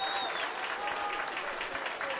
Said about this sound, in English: And the fans applauding as Major Plain hops up off the turf